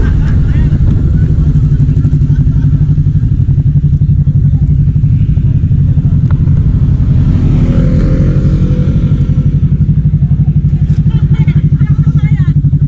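A 180cc adventure scooter engine drones steadily throughout, a low continuous hum with some rising revs and clatter, loud and close.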